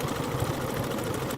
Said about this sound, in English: sewing machine is just right there.